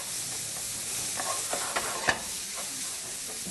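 Faggot mixture browns in a little olive oil, giving a steady close sizzle with a few soft clicks and scrapes as it is stirred around the pan.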